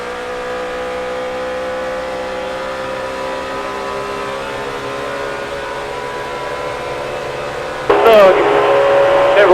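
Dale Earnhardt Jr.'s NASCAR Cup race car heard in-car at the 2007 Sharp Aquos 500, a steady loud engine drone under throttle with harmonic whine, then a sudden louder surge of revving near the end.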